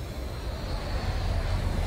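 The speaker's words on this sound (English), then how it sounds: "That's a nice plane." Steady low drone of a Boeing 747's engines in Saints Row The Third, a continuous even roar with a faint high whine, no voices.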